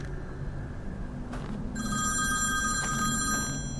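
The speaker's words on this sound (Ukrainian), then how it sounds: "А мені хтось дзвонить." A Nokia mobile phone ringtone rings close by, a bright electronic melody of sustained tones that starts after a brief clatter and plays on steadily.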